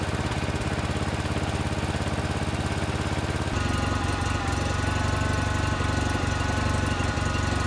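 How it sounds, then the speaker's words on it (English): A John Deere garden tractor with a twin-cylinder Onan engine runs steadily and close by, a smooth low putter with a slight shift in tone partway through, no voices. "That Onan engine is noticeably smoother running, especially at lower RPMs"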